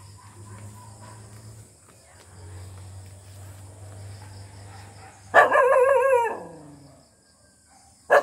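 A dog lets out one loud, drawn-out howling bark over a low background hum, then a short sharp yelp right at the end.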